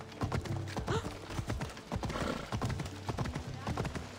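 Horse hooves galloping in the video game Assassin's Creed Odyssey, a quick irregular clip-clop of hoofbeats close up, with a voice talking over them.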